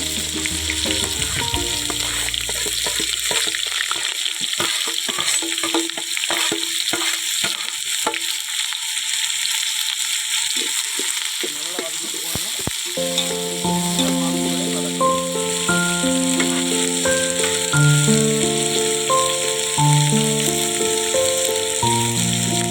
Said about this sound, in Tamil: இதில் நறுக்கி வச்ச சின்ன வெங்காயத்தை சேர்த்திக்கிறோம்.